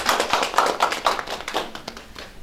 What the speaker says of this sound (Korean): 우리 또 박수로 다시 환영하겠습니다.